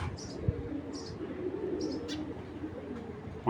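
A pigeon coos softly and continuously in low, rolling tones, with a few faint high chirps from other birds in the background.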